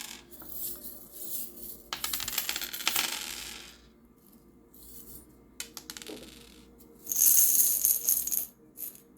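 Small metal tarot charms dropped and tumbling together, several bright clinking jingles and rattles in separate bursts with quiet gaps, close and clear, no talk.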